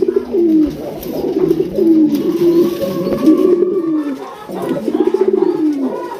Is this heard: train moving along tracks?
no